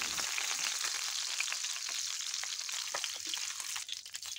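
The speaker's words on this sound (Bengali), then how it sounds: "মাছগুলোকে খুব ভালো করে 2 পিঠ ভেজে নিয়ে তুলে নিচ্ছি" Pabda fish frying in hot oil, a steady dense bright sizzle with crackling spatters throughout, close and continuous with no voices.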